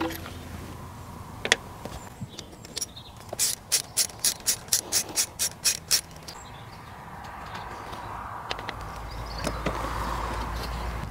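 A ratchet clicks quickly in a run of about a dozen sharp, close ticks as 10 mm head bolts are loosened on a BMW E38/E39 DSC pre-charge pump, with a few scattered clicks before and after.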